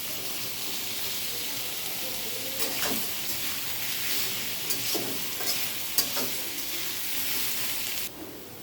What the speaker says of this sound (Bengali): মাছটাও ভালো করে ভেজে নেবো